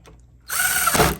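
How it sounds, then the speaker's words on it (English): A power drill driving small screws into a door handle, a brief close whir that starts abruptly after a short click and runs loud for most of a second, no talking. "So let's get our 2 little screws, and we're going to go ahead and put those in."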